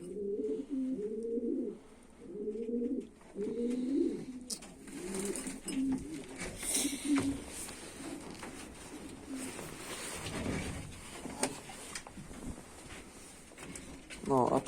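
Homing pigeons coo in a run of repeated, rolling calls close by, strongest over the first few seconds, then give way to rustling and other background noise with a voice now and then.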